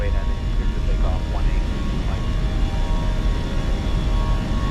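Steady engine roar of a Fenix A320 airliner climbing out after takeoff in a flight simulator, a continuous broadband drone filling the whole stretch, with faint chirping tones flickering early on.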